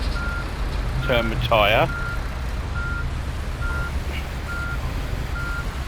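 Bus reversing alarm in Fernbus Simulator on tight Paris streets: a steady, evenly spaced series of electronic beeps repeating throughout, with a short burst of someone talking over the middle.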